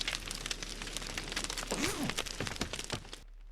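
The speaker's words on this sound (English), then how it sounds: "Oh, it is raining." Steady rain in the survival video game No One Survived patters as a dense crackling hiss, with a few brief tonal game sounds in the middle before the sound drops away at the end.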